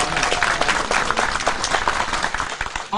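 A crowd of spectators applauds at a Turkish oil wrestling tournament, dense steady clapping filling the whole stretch at close range without pause.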